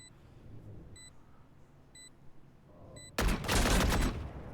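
Valorant turret opening fire in a competitive match, a sudden loud burst after a quiet stretch of soft periodic beeps.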